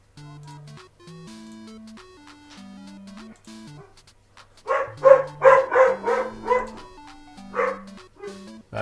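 A dog barks several times in a quick, loud cluster over steady chiptune-style music from the video game Super Castlevania IV, then gives one more bark after a short pause.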